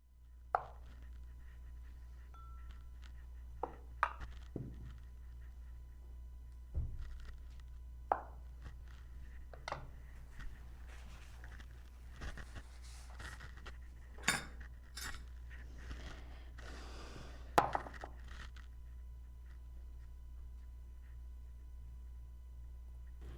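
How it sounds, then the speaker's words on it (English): Two hard-boiled eggs being sliced on a cutting board while making a keto vegetarian club salad, scattered soft knife taps and board knocks over a low steady hum, quiet and close, without talking. "Two hard-boiled eggs. Slice them."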